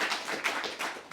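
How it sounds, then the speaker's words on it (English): An audience at a Q&A talk with a sexual wellness company co-founder gives a brief round of applause, heard as quick, even, moderately close hand claps with no voices over them. "if everyone could give Farah a huge round of applause, that'd be amazing"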